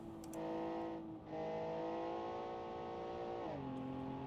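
Porsche GT2 RS in BeamNG at the Nürburgring GP circuit: a loud, steady engine drone holding high revs, shifting pitch near the end as it changes gear, with no talk.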